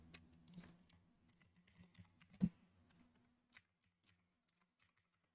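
Quiet typing on a computer keyboard, a run of soft close keystrokes followed by a few sparse, separated key taps.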